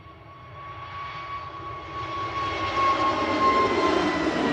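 A Scandinavian Airlines jet departs Manchester Airport for Copenhagen with a rising, distant engine roar and whine that swells steadily louder, with no talking.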